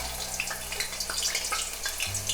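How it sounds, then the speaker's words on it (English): Potatoes for aloo chaat sizzle and crackle in hot oil, a dense steady frying hiss with bubbling pops, close and fairly loud, with a low hum underneath. "I feel like my oil is hot. So we're gonna add all those potatoes in there."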